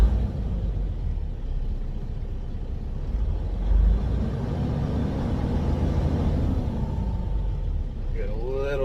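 A car engine idles steadily, a continuous low rumble holding fairly even throughout, with a faint rising whine near the end.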